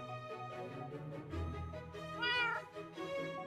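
Cat meowing in Minecraft, several clear, close meows in a row, the last one higher and drawn out, with no talking over them.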